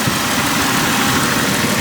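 A Jeep's 4-liter inline-six engine idles steadily up close, a loud continuous low rumble with no change in rhythm over a short stretch.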